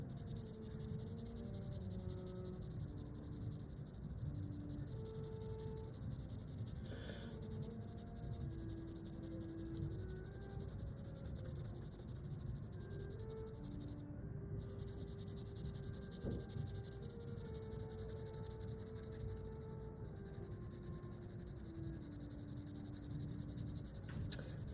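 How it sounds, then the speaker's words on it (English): Colored pencil moving quickly across paper in quick shading strokes, a soft continuous scratchy rasp, faint and close, with a few brief pauses over a low background hum. "I'm moving my pencil quickly, going all kind of in the same general direction."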